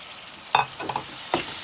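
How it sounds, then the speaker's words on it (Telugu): Chopped tomatoes added to hot oil after onions for a gongura prawn curry, with a low sizzle and a few sharp stirring clatters and spatula scrapes close by. "ఉల్లిపాయలు వేగిన తర్వాత కట్ చేసుకున్న టమాటాలు వేసుకోవాలి"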